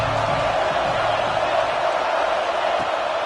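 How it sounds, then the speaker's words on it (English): A football stadium crowd at Ohio State versus USC builds a steady, dense roar on third down, a continuous wash of cheering heard from a distance with no break. "Decibels rising as the crowd gets behind this defense on 3rd down"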